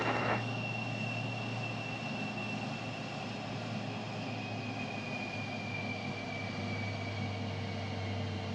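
An F-4 Phantom jet engine held at 40% throttle in a flight simulator, a steady, even roar with a faint whine on top, constant and unbroken with no voices.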